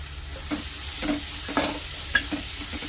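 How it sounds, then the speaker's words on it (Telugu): Thinly sliced onions with green chillies and salt frying in a pan for an egg and fish curry, a steady soft sizzle broken by several light stirring scrapes, close and fairly quiet with no talk. "బాగా బ్రౌన్ కలర్ వచ్చేదాకా వేయించుకోవాలి"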